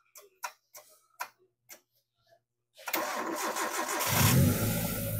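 A sedan engine cranks and catches using a portable car jump starter, first a few sharp clicks and ticks, then the motor turning over and settling into a steady, loud running rumble close by.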